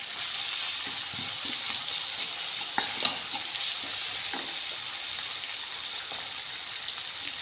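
Steady sizzling of ginger garlic paste frying in hot oil for chicken masala, with occasional stirring scrapes and clinks, continuous and close.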